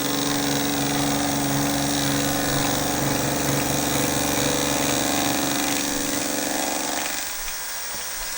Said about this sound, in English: Now you will notice that I'm taking very light cuts. It's because this machine is very small and it's very flexible.